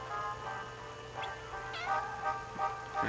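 A cat meows several times in short, soft calls, fairly close, over a faint background hum.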